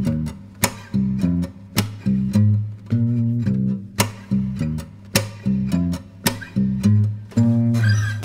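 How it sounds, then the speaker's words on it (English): Bass line of a riff played alone on guitar, a bouncy syncopated pattern of plucked low notes with percussive thumb slaps, close and clear with no talking. "And the bass line by itself sounds like this."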